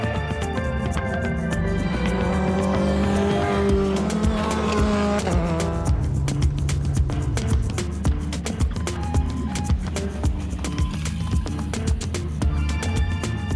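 Near-standard Toyota GR86 sports cars racing at Zwartkops Raceway, engines revving and shifting as cars pass, with a steady crowd and track din and sharp clatter throughout.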